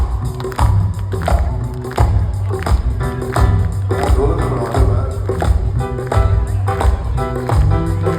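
Dholak drumming at a live outdoor concert: loud, driving rhythmic beats with steady repeated strikes, mixed with music and crowd noise.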